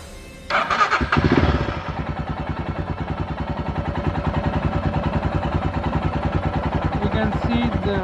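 A Royal Enfield Himalayan motorcycle engine cranks briefly, fires up loudly, then settles into a steady, close thumping idle that runs for several seconds.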